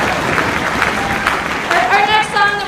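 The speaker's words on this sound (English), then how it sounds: "Let's give them one more round of applause." Audience applause for young string players, violin, viola and cello, at a school chamber holiday concert: dense steady clapping from a crowd, with a voice and a brief sustained tone rising near the end.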